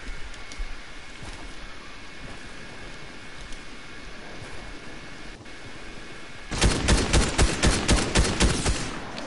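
Rapid burst of video game gunfire in Fortnite, aimed at a falling supply drop, erupting loud and dense after several seconds of quieter game ambience, with sharp repeated shots in a fast rhythm.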